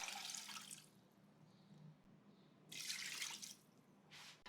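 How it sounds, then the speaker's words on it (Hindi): Water poured into beef in a pressure cooker for Pakistani-style beef karahi, with salt, crushed ginger and garlic already added. Two bursts of pouring splash close by, each a couple of seconds long, with a short third splash at the end and quiet in between. "अब इसमें 1 लीटर पानी डाल दें।"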